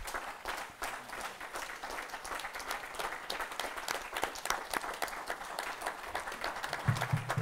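A church congregation at a Sunday worship service applauds steadily, a faint, even wash of many hands clapping at a distance with no pause.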